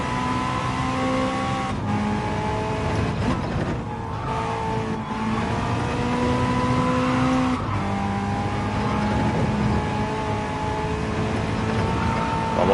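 Race car engine in Gran Turismo 7, loud and continuous, revving up and down through gear changes with dips as the car brakes into corners, alone with no talk.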